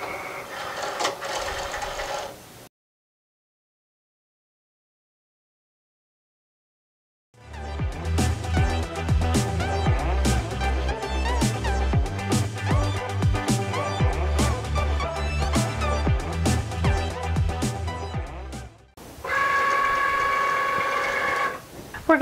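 A Cricut cutting machine cuts iron-on vinyl with a busy mechanical whirring and ratcheting of motors and gears, loud and close, stopping and restarting after a stretch of silence.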